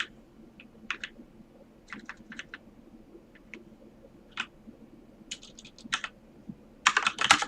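Bursts of keystrokes on a computer keyboard while code is being typed, clustered clicks in short irregular runs separated by pauses, ending in a faster, denser flurry of taps; close and fairly quiet with no voices.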